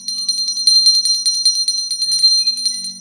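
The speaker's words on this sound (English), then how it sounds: "Bells." Bells ring continuously as a sound effect in a Christmas Carol radio play, a bright repeated jangling with a low hum underneath, steady and close throughout.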